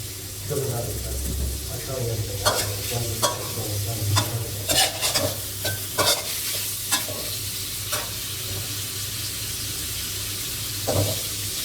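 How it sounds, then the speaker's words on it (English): Meat stirred and turned while frying in a hot oiled pan for a Thai ramen stir-fry, continuous sizzling broken by repeated sharp spatula scrapes and clacks, loud and close. "Turn the meat and continue frying."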